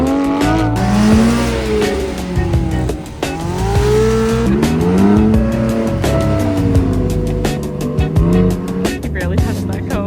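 A car engine revs hard and accelerates with tires squealing at an autocross event, rising and falling pitch throughout, loud and close, with brief shifts in tone.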